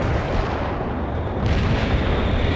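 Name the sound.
artillery barrage in World in Conflict video game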